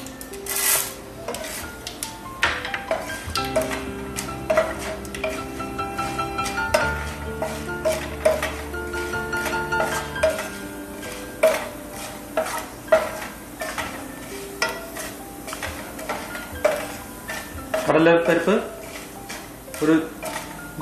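Chana dal and cumin roasting in a pan for rava idli, with a spoon clanking and scraping against the metal in repeated bursts over a soft sizzle, close and busy, no talking.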